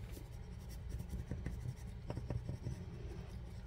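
Firm rubbing strokes of a rub-on transfer being burnished onto paper in a skinny planner, a steady scratchy friction close by with no talking.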